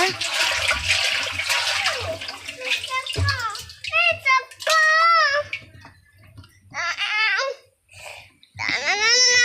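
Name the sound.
running water from a tank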